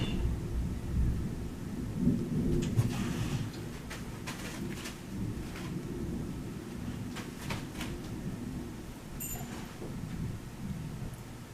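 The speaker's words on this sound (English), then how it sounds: "That's some thunder right there." Thunder from a strong storm outside rumbles low and sustained, rising into a deeper roll early on and then fading into a quieter grumble under faint rain hiss, with no one talking.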